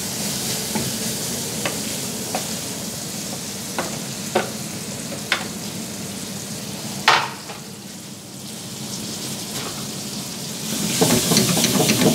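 Chicken livers sizzle in a frying pan at a restaurant in Hamra, Beirut, a steady close crackle broken by several sharp utensil clicks and scrapes as they are stirred, growing louder at the end.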